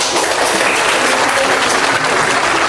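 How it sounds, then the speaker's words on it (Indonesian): A classroom of students applauds during a real-teaching practice session in Purwakarta, with steady dense clapping filling the whole moment, close and loud, without pauses. "Tepuk tangan dong buat."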